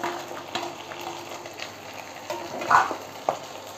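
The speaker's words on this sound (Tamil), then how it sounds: "பூண்டை வதக்கிட்டு" Garlic sautés in a pan with onions for a chickpea tamarind curry, with a soft, steady sizzle broken by scraping stirs and a couple of sharper clinks of the spoon, close and fairly quiet.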